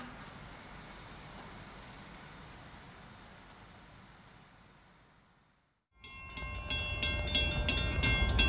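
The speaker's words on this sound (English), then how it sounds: "we catch the train at Industrial Drive in Hamburg as it heads north on the main line" A Reading and Northern work train heads north on the main line at Industrial Drive in Hamburg. A steady distant rumble fades to near silence, then a much louder pass returns with grinding wheels and high, ringing metallic tones.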